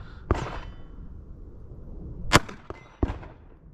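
Ruger LCP Max pistol fired at close range, three sharp shots with irregular spacing, one much louder than the others, over quiet background.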